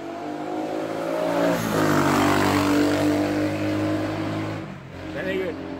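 Car engine with a leaking header gasket or flange revving up at a car show, a loud rough drone with rising and falling pitch that dips briefly near the end, while people talk nearby.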